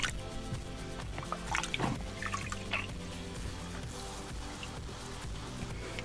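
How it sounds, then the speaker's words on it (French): Water runs and drips as a skincare product is rinsed off, a quiet, steady trickle with soft splashes close to the microphone. "Et là, on va rincer"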